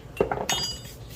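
A small glass jar of cumin clinks and rattles in a kitchen, giving a few quick, close glassy knocks in a brief burst with no talking.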